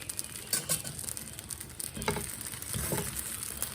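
Sponge dosa made with poha fries in ghee on a hot pan, giving a soft, steady sizzle with light crackle and a few brief swells near the end, heard alone with no talk.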